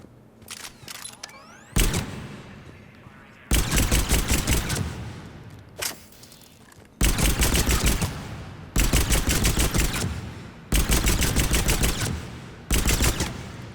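Automatic gunfire at a shooting range in the video game Mass Effect 3, loud rapid bursts of several seconds each separated by short pauses, with a few single shots at the start and no talking.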